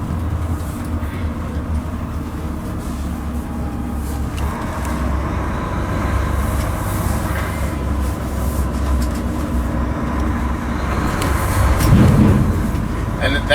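Inside the cab of a Volvo FMX 480 8x4 tipper truck on the move, a loud continuous engine and road rumble carries the clatter of the empty tipper bucket bouncing on the chassis, with people talking over it.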